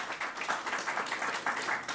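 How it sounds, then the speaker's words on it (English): Audience applause for Mayor Byron Brown at a Covid-19 briefing held by New York Governor Andrew Cuomo, a modest, somewhat thin round of clapping heard from a distance and continuing throughout at an even level. "Let's give Mayor Byron Brown a big round of applause."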